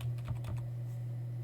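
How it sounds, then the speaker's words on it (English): Computer keyboard typing in Tinkercad, a quick cluster of a few soft key taps near the start, then quiet over a steady electrical hum. "clicking here and then typing 180, pressing enter,"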